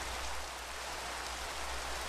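Steady rain in a video game, a constant soft hiss of falling drops with a low rumble beneath, even and unbroken throughout with no voices.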